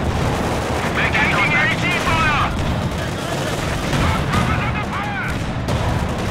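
Anti-tank gunfire rattles through a Company of Heroes 2 winter battle at Rzhev, with a German Panzer IV in the fight; dense, loud, continuous rumbling fire and booms fill the whole stretch, with voice chatter mixed in.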